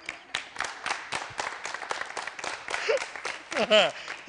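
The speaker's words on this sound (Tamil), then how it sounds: "இதுக்கு பரவலா கைத்தட்டு இருக்கப்பா" A TV studio audience for the talk show Neeya Naana breaks into scattered hand claps, uneven and close, mixed with voices and crowd murmur over a few seconds.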